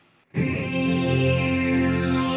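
A Boss SY200 synth patch runs through a Boss Dimension C chorus, entering abruptly after a brief quiet moment as one sustained, shimmering tone with a wide, swirling chorus that rings steadily to the end.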